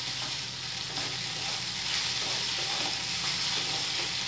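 Soaked sabudana being stirred in a hot pan for khichdi, giving a steady, even sizzle with soft scraping under it throughout and no voices.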